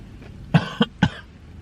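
A person coughs three times in quick succession, short, close bursts over quiet outdoor background, with no talk.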